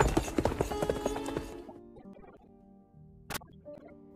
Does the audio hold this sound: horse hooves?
yes